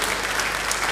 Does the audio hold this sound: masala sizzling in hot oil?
no